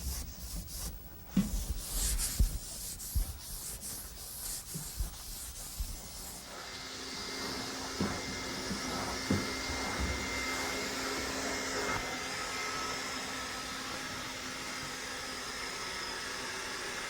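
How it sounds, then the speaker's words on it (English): A vacuum cleaner fitted with a brush whooshes steadily as it lifts sanding dust off painted interior woodwork. Rubbing and scraping strokes come first, then a continuous drone, moderately close and without speech. "a brush on a vacuum is really the best tool"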